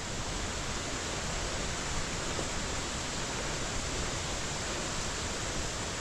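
Water rushes steadily through a channel diverted from the Honorato Ferreira waterfall to feed a lake, an even, continuous broadband roar with no breaks, heard alone.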